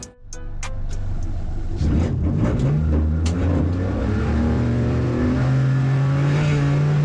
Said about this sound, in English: Grid is formed, the revs are starting to rise